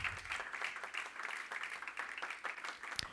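A church congregation claps together during a sermon, a dense, continuous rattle of many hands filling the room at moderate loudness, with no speech over it.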